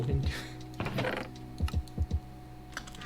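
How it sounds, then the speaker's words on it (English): Rapid bursts of typing on a computer keyboard, a cluster of clicks up front and then separate keystrokes spaced out after, with someone talking over it. "I keep trying to hit E and then W. I keep typing E."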